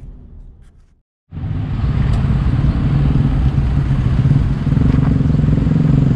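A Chevrolet Captiva LT pulls in at Lotus Ban Bueng in Chonburi, with a quiet rumble that cuts out briefly, then a steady loud engine and road drone, close and continuous.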